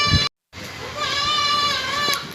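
Goat with pink cross markings at a rainy livestock market, giving a drawn-out, fairly close bleat after a brief cutout, amid crowd murmur and someone talking.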